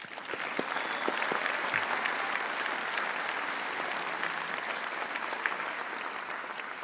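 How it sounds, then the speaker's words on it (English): Audience at a College of Education commencement ceremony breaks into steady, dense applause with scattered cheers, filling the hall evenly for several seconds without a break. "Join me in cheering for the English Ed folks."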